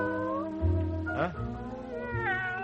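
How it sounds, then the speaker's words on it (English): A scrawny alley cat meows several times in drawn-out, wavering cries, close and clear against a quiet background. "A real, live, scrawny, lovely alley cat."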